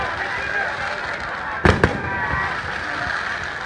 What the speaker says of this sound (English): Fireworks for days! Fireworks for days!